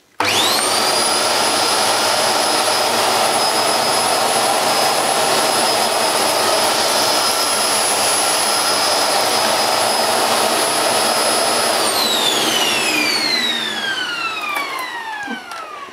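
A Hoover Globe GL1103 bagless upright vacuum cleaner on the long pile setting runs on a hard floor with a loud, steady high whine that holds for about twelve seconds, then falls in pitch as it winds down.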